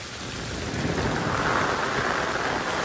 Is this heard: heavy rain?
yes